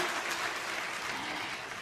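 Steady, dense applause from a theatre audience at a live concert at the Piccolo Teatro Strehler, Milan, a continuous wash of many hands clapping without a break.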